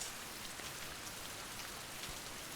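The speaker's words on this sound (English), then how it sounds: "You can adjust the rain from left to right, and then up and down makes it light or" Synthetic rain from an OUYA rain app plays as a continuous, even hiss of falling drops with a faint patter, quiet and steady throughout with no voices.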